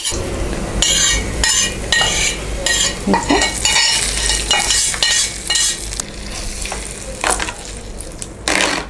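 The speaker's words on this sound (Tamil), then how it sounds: "இப்போ நம்ம இதை ஆஃப் பண்ணிவிட்டு தயிர் சாதத்தை கூட மிக்ஸ் பண்ணிக்கலாம்." A spoon stirs a tempering of curry leaves and a dried red chilli into curd rice, with loud scraping and clinking strokes over a sizzling background, in bursts with short pauses.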